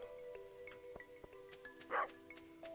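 A dog in the farming game Stardew Valley gives a few short, soft yips and barks, with one louder bark standing out near the middle, over a quiet game music background.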